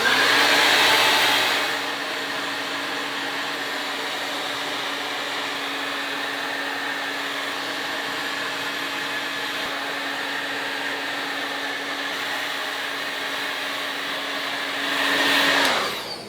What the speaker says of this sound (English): So I'm gonna blow dry this guy carefully.